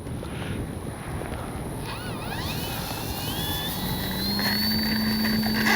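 E-flite Commander MPD radio-controlled plane at its maiden flight, electric motor whine rising in pitch as it spools up for takeoff, climbing and steady over windy outdoor background noise, no talking.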